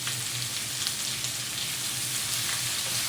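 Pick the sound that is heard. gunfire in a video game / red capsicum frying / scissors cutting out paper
red capsicum frying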